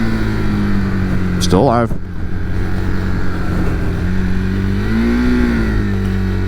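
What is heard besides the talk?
motorcycle engine revving as throttle is blipped for rev matching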